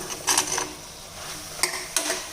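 Chopped mushrooms being stirred in a cooking pan in a home kitchen: a few short scraping, rattling clicks of a utensil against the pan, spaced irregularly over a faint sizzle.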